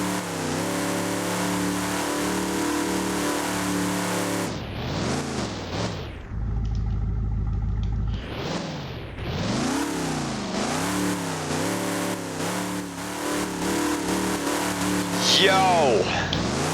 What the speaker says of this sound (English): let us try out the sounds, because it's a V8 and it will probably sound good.